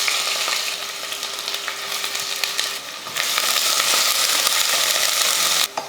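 Two large sliced onions fry in hot oil with whole spices for egg biryani, a dense continuous sizzle close by that swells louder partway through, then cuts off abruptly near the end, with no talking.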